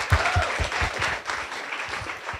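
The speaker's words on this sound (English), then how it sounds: "I think they were clapping because I'm almost done" Audience applauding at a club lunch meeting in a restaurant, a steady patter of many hands clapping close by, with some faint voices underneath throughout.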